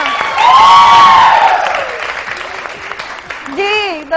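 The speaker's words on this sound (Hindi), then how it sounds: "एक बार फिर तालियां।" Studio audience on a television morning show applauding in a brief burst that fades quickly, with voices and music tones over it before talk resumes.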